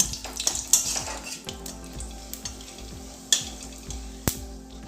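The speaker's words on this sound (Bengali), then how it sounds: "দিয়ে দিচ্ছি একটা তেজপাতা আর দিয়ে দেব দুটো শুকনো লঙ্কা ফোড়নটা আমি কয়েক সেকেন্ড ভেজে নেব" Half a spoon of five-spice, a bay leaf and two dried chillies crackle briefly in hot oil, with a low sizzle under repeated light spatula taps and a few sharper clinks.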